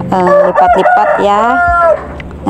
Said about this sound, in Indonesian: Karena memelihara ayam pastinya kedengaran suara ayam berkokok.